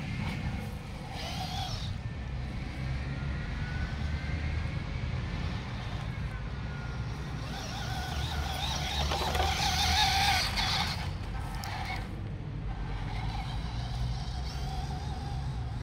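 A small RC drift car's electric motor whines and bogs down under load, a continuous strained mechanical hum with shifting tone and a brief rise near the middle, with no distinct speech.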